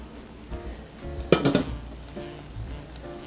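Danish klejner Christmas cookies frying in hot fat, a low steady bubbling hiss with a short louder burst of clinking and sizzle in the middle, heard close with no talk.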